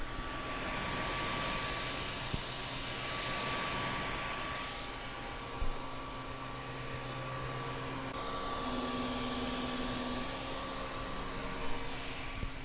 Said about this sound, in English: I want you to hear the printer. Overall, it's pretty quiet, mostly just fan noises.